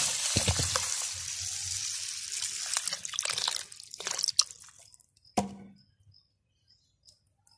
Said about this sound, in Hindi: ये बोतल है जी पानी की, तो ये आप पानी इसके अंदर डाल लें।